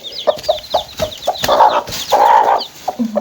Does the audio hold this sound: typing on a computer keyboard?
no